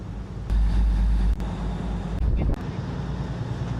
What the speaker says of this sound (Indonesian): Lagi nikmati angin sepoi-sepoi